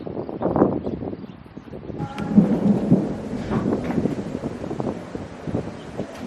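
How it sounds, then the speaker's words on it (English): A thunderstorm in southern Arizona rumbles with low rolling thunder over steady rain and gusting wind noise, loud and continuous throughout with no talking. "we finally got a thunderstorm coming this way."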